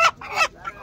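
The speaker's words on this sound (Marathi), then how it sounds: "ही माझी मम्मीने कोंबडी पकडली बघा" A domestic hen squawks loudly while being caught by hand at a family home, three harsh, close cries in quick succession with brief gaps between them.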